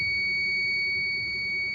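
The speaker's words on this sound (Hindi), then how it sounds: "ये देखो बजर का साइन आ रहा है" A multimeter's continuity buzzer sounds while an electric iron's thermostat is tested, giving a steady, unbroken high-pitched tone with a low background hum.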